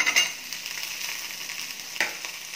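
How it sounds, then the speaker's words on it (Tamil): Chopped tomatoes frying with onions in a pan, giving a close, steady sizzle with a couple of brief sharper crackles or stirs and no talking. "ஆனியன் கொஞ்சம் ஃப்ரை ஆனதும் வெட்டி வச்ச ரெண்டு தக்காளியை இதில் சேர்த்துடலாம்"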